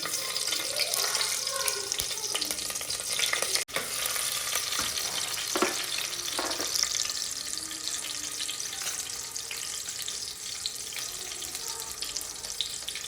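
Seven or eight slit green chillies fry in oil in a pan, giving a fairly faint, continuous hissing sizzle with a sharp clatter early on and occasional stirring bumps.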